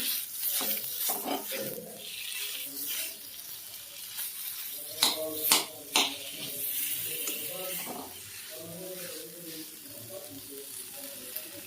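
Sweet potato roasts in ghee in a pan, frying with a soft, crackling sizzle and occasional stirring scrapes while someone talks over it.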